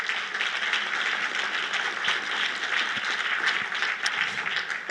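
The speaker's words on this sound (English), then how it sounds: "Let's give them all a round of applause." An audience at a State of the City address applauds elected officials and city staff, a steady, moderately loud roll of many hands clapping without break.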